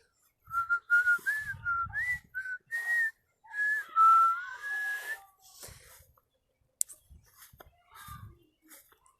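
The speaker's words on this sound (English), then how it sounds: "So I think I finally got a whistle down." A person whistles a wavering, sliding tune in short bursts and longer phrases, fairly close and clear, followed by quieter scattered whistles and faint noises.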